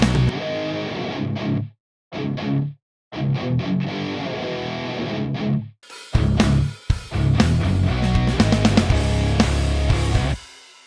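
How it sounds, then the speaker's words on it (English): A direct instrument signal with light distortion, a gritty sustained tone cut into phrases by short silences. A brighter, louder distorted passage follows, ending abruptly. "direct signal with a bit of distortion"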